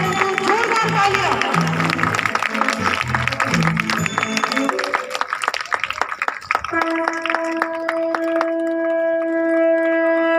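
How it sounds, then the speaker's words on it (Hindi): A crowd at a yoga institute gathering in Raipur claps loudly and steadily for several seconds, then the applause gives way to sustained musical tones. "तो जोरदार तालियां।"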